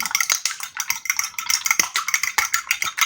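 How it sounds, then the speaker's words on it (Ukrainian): Eggs being stirred into a bowl of grated potato for potato pancakes, a close, steady run of wet clinking and scraping strokes against the bowl, repeated rhythmically without pause. "Тут трошки перемішаю жовток з білочком і тоді додам до маси натертої"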